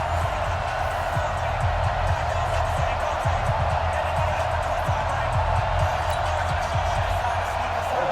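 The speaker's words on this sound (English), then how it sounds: "The crowd is fired up" A Madden NFL 20 stadium crowd at the Pro Bowl roars in a dense, steady wash of cheering, with low repeated thuds beneath and commentary running over it.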